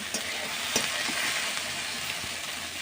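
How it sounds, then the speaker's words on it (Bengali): Okra sizzling steadily in a hot wok with nigella seeds and chopped green chillies, a continuous crackling hiss with a few light clicks of stirring, no voices. "ভাজছি এবার কড়াইতে"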